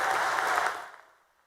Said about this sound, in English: Let's give Jean Paul a big round of applause.